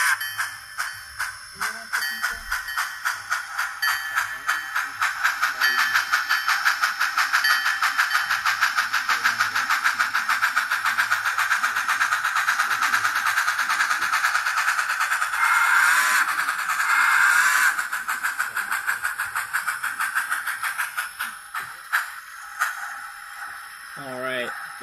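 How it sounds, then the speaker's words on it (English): A model steam locomotive with a tender puffing in a steady, rapid rhythmic chuff with hiss, fairly loud and continuous, with a voice talking over it. "That is just such a fantastic sounding locomotive"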